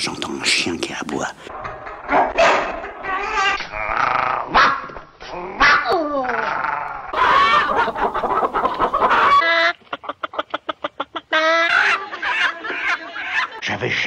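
A dog barks repeatedly amid clucking and crowing poultry sounds, with a burst of rapid staccato calls partway through; the noises resemble voices imitating animals.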